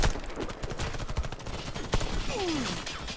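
Automatic gunfire in the PC shooter Warface, with rounds punching through sheet metal: fast, loud, close bursts of shots in a rapid clattering stream, plus a brief whooshing game effect near the end.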